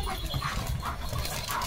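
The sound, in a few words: German Shepherd dog Leo barking at horses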